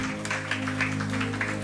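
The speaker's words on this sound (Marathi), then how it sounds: "जरा जोरदार टाळ्या आहेत प्रियासाठी" Applause for a woman named Priya during a Marathi church sermon, a steady wash of clapping that continues over a low sustained musical drone for the whole short stretch.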